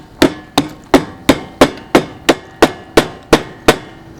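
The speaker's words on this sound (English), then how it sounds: "Now we need to chisel it, right?" A hammer striking a chisel to carve a wooden mailbox, eleven sharp, evenly spaced whacks close up, each ringing briefly before the next, with no talk.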